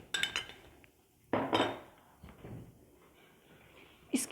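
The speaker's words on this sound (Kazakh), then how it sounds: "60 грамм крахмалымызды қосамыз да барлығын жақсылап араластырамыз" Cake batter is stirred with starch in a bowl for a Prague cake, a spoon clinking against the bowl in sharp scraping bursts separated by quiet pauses.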